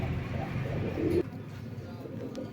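Two Oman bloodline pigeons coo in low, steady murmurs at close range, continuing for about a second before stopping abruptly, leaving only faint background noise.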